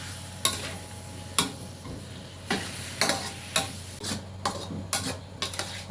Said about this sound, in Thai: ผัดคะน้าปลากระป๋องพี่น้องเ มลุงังไงเหมือนบ้านครับ